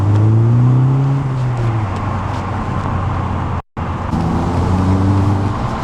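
Audi TT on the road, heard from inside as a steady engine hum that rises and falls with gear changes over constant road and tyre noise, broken by a brief drop-out.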